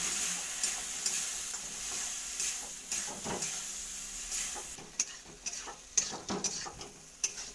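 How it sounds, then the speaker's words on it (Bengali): Okra (bhindi) frying with chilli, cumin and coriander powder and a splash of water, sizzling softly as a spatula scrapes and taps the pan in irregular bursts, close up with no talking. "এটাকে ভালো করে মিশিয়ে অল্প পানি দিয়ে"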